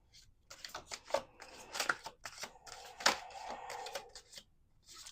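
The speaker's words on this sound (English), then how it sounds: "Okay, we're going to do 2 more shuffles." Tarot cards being shuffled by hand give a quiet, close series of irregular riffling flicks and soft slaps over a few seconds, with no talking.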